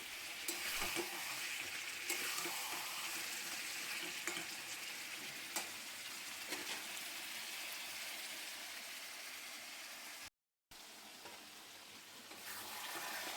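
Chicken sizzles steadily in a large wok while it is stirred, giving a continuous frying hiss broken by scattered scraping clicks of the spatula, with a brief drop to silence near the end.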